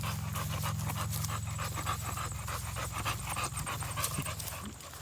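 A bulldog pants steadily and rapidly close by outdoors, a continuous rhythmic breathy huffing that carries on for the whole stretch without pause.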